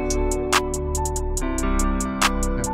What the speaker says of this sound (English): Let's go in with the hi-hats.